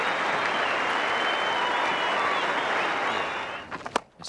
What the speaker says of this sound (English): Everyone off the backside standing up, cheering him out to the middle.